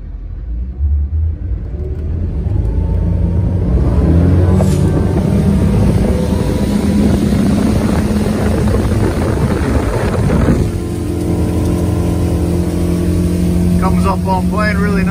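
A 2022 Regal 28 Express boat engine running on Raystown Lake, a loud steady rumble with wind buffeting the microphone, shifting partway through, and a person speaking near the end.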